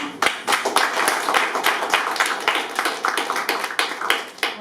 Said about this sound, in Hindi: दुनिया तालियां बजाती है। तालियां बजाएंगे